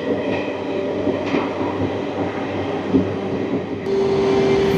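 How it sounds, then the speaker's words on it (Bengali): The Nagavali Express rumbles along in a steady loud roar heard from inside, with faint rhythmic wheel clatter and a high squeal that sets in near the end. "আজকে হতে চলেছে একটা ট্রেন জার্নি ব্লগ।"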